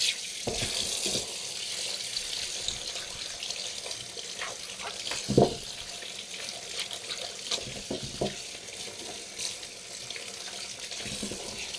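Brined gherkins rinsed and rubbed under a running kitchen tap: a steady hiss of flowing water fills the whole stretch, with a few brief splashes and clunks as the pickles are handled, close and moderately loud, no speech.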